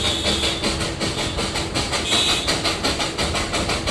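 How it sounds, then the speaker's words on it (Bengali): A train rolls past a hillside inn in Darjeeling, its wheels beating out a loud, steady rhythmic clatter close at hand for several seconds. "এই যে আবার একটা ট্রেন আসছে।"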